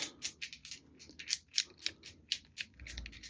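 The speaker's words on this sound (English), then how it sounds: "I'm going to scramble the wheels, give it a good shuffle back and forth" The wheels of an Uläc Soloist combination bike lock are spun and shuffled back and forth. A rapid run of crisp plastic clicks and ratcheting bursts sounds close up in a quiet room.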